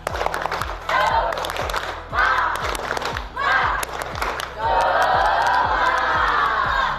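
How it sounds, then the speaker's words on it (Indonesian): A school class performs a rhythmic spirit clapping chant, loud group voices shouting in unison over steady, evenly spaced claps, building to a sustained cheer at the end. "Oke, sekali lagi. Tepuk semangat."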